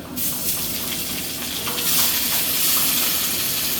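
Onions and bitter gourd frying in hot oil, a steady loud sizzle that swells slightly midway and holds without pause.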